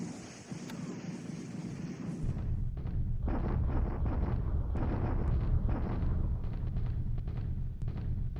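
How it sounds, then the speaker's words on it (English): Naval bombardment of Surabaya in the strategy game War in the Pacific: Admiral Edition, a sustained deep rumbling roar of explosions and artillery that swells after a quieter start and stays dense and loud to the end. "Bombardment attack at Surabaya."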